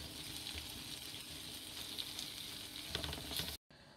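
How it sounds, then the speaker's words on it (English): Grilled vegetables and avocado sizzle quietly on a hot grill pan, a soft continuous hiss with faint scraping before it cuts off abruptly near the end. "we're just going to grill it for a minute"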